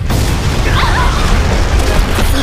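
A self-destruct attack in an anime fight sets off a massive explosion, a loud, dense roaring blast that fills the whole two and a half seconds without letting up.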